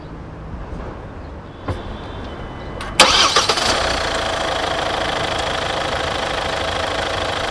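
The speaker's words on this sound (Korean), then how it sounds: "자 그럼 엔진 소리 한번 들려드릴게요" Quiet background, then a fourth-generation Kia Sportage engine cranks with a few sharp bursts and catches, settling into a steady, close idle.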